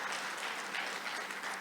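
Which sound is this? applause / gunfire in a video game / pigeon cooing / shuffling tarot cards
applause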